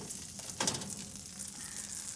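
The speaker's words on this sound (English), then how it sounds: "Oh, it's sizzling." Quiet, steady sizzling of food frying in a hot pan, with a brief louder hiss partway through and no voices.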